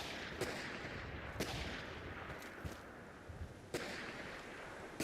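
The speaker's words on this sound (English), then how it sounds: "Where's that gunfire coming from?" Distant video game gunfire from Fallout 4 cracks at irregular intervals over a constant rumbling background, a few sharp reports standing out above the noise.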